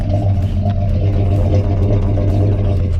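A 1969 Chevrolet C10 pickup engine running at a steady idle, a loud, close, low rumbling drone with a slightly uneven throb for a few seconds.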